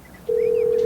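A telephone line gives a single steady ringing tone that starts abruptly after a brief quiet moment and holds loud and unbroken to the end.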